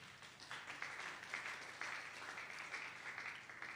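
A church congregation applauds and cheers the king together, with steady, moderately distant clapping that keeps going throughout.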